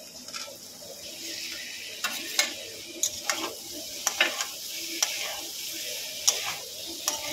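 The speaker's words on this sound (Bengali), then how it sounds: "মশলাটাকে ভালো করে কষিয়ে নেব।" Spice paste with green chilli, drumstick pieces and potato sautéed in a pan for a Bengali rohu fish curry, a continuous sizzle broken by repeated sharp spoon scrapes and clicks at an uneven rhythm.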